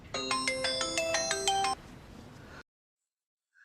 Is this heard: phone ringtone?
yes